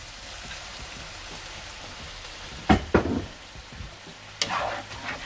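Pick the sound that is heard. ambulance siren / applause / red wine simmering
red wine simmering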